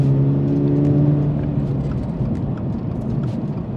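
Engine drone of a Subaru BRZ sports car driven on the Sydney Motorsport Park track, a loud steady low hum with a slight shift in pitch as it runs on without a break.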